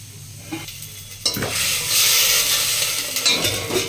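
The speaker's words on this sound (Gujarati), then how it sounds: "ચાલો આપણે દાળ વઘારવા મૂકી દીધી છે રાઈને ફોડી નાખીશું અને પછી એમાં હિંગ નાખીશું" Mustard seeds and asafoetida crackle in hot oil while tempering dal. A few quiet clinks come first, then a loud, sustained sizzle with spatters and the scrape of stirring.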